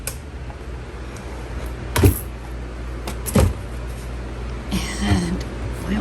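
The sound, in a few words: kitchen drawer being opened and closed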